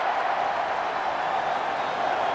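Stadium crowd at an NFL playoff game between the San Diego Chargers and Pittsburgh Steelers, a broad steady roar from a distance, continuous and even with no distinct cheers rising out of it.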